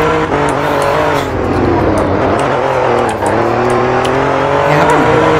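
2021 Alfa Romeo Giulia Quadrifoglio accelerating hard, its engine note rising through gears in loud, close sweeps with brief dips at the shifts and a faint tire squeal.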